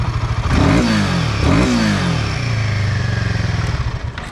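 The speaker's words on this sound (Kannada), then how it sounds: "ಗಾಡಿ ಇಂಜಿನ್ ಯಾವ ಥರ ರೇವ್ ಆಗ್ತಿದೆ ಅಂತ ಫೀಲಲ್ಲಿ ಒಂದು 2 ಸೆಕೆಂಡ್ ಮಾತೇ ಬರಲಿಲ್ಲ" A Royal Enfield Himalayan 450 motorcycle engine is revved close by, loud throttle blips rising and falling twice before settling into a steady, throbbing idle, with no talk.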